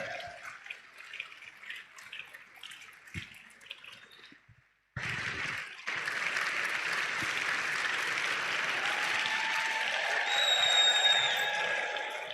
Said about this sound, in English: Don't stop clapping until he gets here.